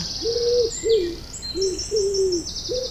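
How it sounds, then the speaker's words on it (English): Wood pigeons coo in soft, low calls repeating in a steady series of about five phrases, with higher bird chirps and twittering running faintly above them, in spring on the Isle of Man. "Wood pigeons are warbling softly."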